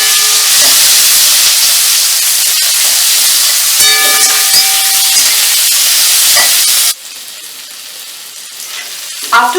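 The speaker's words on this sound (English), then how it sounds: "After frying for about 5 minutes, the onions have become brown." Onions fry in a pan on high flame after tomato, a steady loud sizzle and hiss running nearly unbroken, then dropping abruptly to a softer sizzle near the end.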